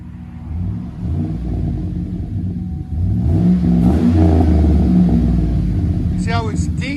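A Chevy/GMC 5.3L V8 with a loud, deep aftermarket exhaust revs up from idle, the rumble swelling into a sustained throaty roar, with people talking over it nearby.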